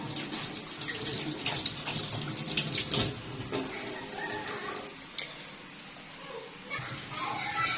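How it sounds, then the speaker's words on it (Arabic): A sink tap runs steadily while hands and a drinking glass are washed, with faint clinks and splashes. A person talks over the flowing water. "استنوا بقى اغسل ايدي، اغسل الكوبايه"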